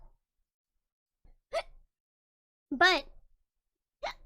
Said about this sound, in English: Let me pause because I'm talking and I have to hiccup.